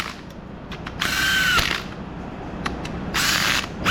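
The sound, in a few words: power tool running down engine bolts on an LS build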